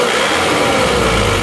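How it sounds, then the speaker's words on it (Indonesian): An Isuzu Panther diesel engine runs with its injection timing advanced slightly, a loud, continuous close-up engine rumble with no voices. "ini kondisi mesin setelah kita majukan penyemprotannya sedikit."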